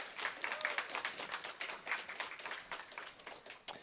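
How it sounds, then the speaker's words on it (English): Scattered hand claps from a conference audience just after a presentation, soft and somewhat distant, a brief round with no talk over it. "A big round of applause."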